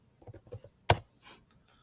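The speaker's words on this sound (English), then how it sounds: "So let's go ahead and type this in." A computer keyboard is tapped in a few quick light keystrokes, followed by one sharper, louder key press, heard up close with no talking.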